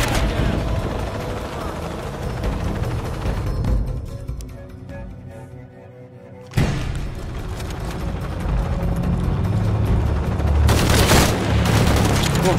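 Loud volleys of gunfire in Shadow of the Tomb Raider, dense rapid shots and booms with a short quieter lull in the middle before the shooting resumes, a voice speaking over it.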